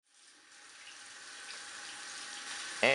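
Running tap water pours steadily as a thin, rollable, dirt- and water-resistant keyboard is washed under it, a constant hiss that swells slightly and ends with a short splash, with no voices.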